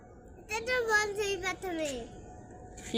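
A voice makes a drawn-out, falling moo in imitation of a cow, close and clear, ending in quiet.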